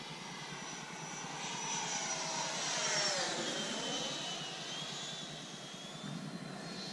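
A Freewing F-22 Raptor RC jet with an upgraded 1900 kV motor flies past outdoors, its high ducted-fan whine swelling as it approaches, peaking mid-pass, then fading with a falling Doppler sweep as it moves away.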